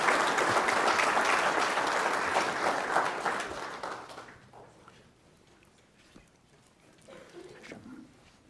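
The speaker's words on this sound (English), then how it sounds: "Can we all give a round of applause to our guest, Laura Klein?" Audience applause at a law school Pro Bono Society induction ceremony, loud sustained clapping that fades out after about four seconds, leaving quiet room noise and faint movement.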